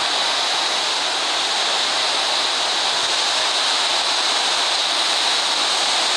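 Steady roar of water falling into a river in a Halo video game, a dense continuous rush heard close and loud with no pauses or voices.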